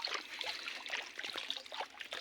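Water trickling and flowing through a farm field, a steady close babble of running water with small splashy bubbles throughout, no voices.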